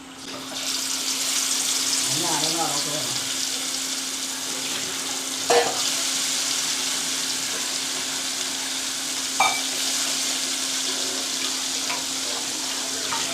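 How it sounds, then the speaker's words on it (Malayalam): Masala-coated fish fries in hot oil with a steady, close sizzle that runs the whole time, broken by a couple of brief clicks from the pan. "നല്ല മസാല പറ്റിയിട്ടുള്ള മീൻ ഇങ്ങനെ ചൂടെണ്ണയിൽ കിടന്നിട്ട് ഇങ്ങനെ വറവറാന്നാവണതാണ് നല്ല രസമല്ലേ"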